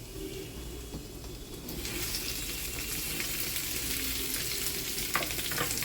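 Boiled potatoes dropped into hot oil with cumin and green chillies, the sizzle swelling loudly after a quieter start and holding as a dense, close crackle with a brief clink near the end.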